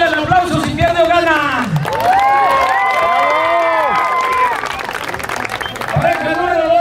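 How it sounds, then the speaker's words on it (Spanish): Crowd reaction at a rural rodeo (jaripeo) during Holy Week in Quetzalapa, Hidalgo, with loud cheering, whoops and scattered clapping from a close, lively audience. An announcer's voice and shouting children carry over the noise. "Pareja número uno, regálenle el aplauso si pierde o gana."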